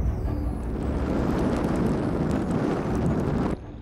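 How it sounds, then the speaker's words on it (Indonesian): Strong wind blowing across the open sea on a fishing trip off the Indonesian coast, a steady, loud broadband roar buffeting the microphone throughout, dropping slightly at the very end. "Angin sudah semakin kencang dan awan hitam pun perlahan mulai menghampiri kami"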